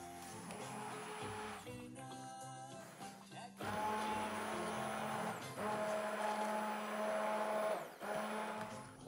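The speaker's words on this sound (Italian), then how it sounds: "vado a frullarla per bene con il frullatore di immersione fino a renderla ben liscia" An immersion blender whirs loudly in steady bursts while puréeing pumpkin, briefly stopping and restarting, its motor pitch shifting as it churns.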